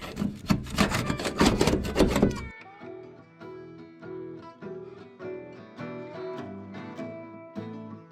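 A hand scraper rasps peeling paint off a 1940s Servel propane fridge in a few loud, close, rapid scraping strokes lasting about two seconds, after which the scraping gives way to music.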